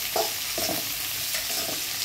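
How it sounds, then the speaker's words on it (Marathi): Sliced onion and mushroom fry together in a pan over low heat, giving a steady close sizzle broken by several scraping stirs of a spoon against the pan. "म्हणजे कांदा आणि मशरूम एकत्रच शिजला जातं"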